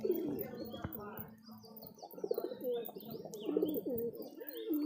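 Pigeons cooing inside a loft where the birds are sitting on eggs, several soft rolling coos overlapping close by with faint chirps, while a person talks quietly at times.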